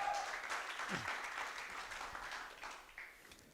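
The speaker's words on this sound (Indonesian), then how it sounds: "tepuk tangan buat kalian semua" Applause from a youth worship congregation at a Kingdom Fan Club service, a steady wash of clapping that slowly fades over a few seconds, with a brief voice at the very start.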